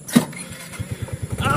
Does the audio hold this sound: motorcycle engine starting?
yes